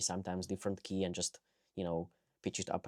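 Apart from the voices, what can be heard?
None of the usual background noises is heard.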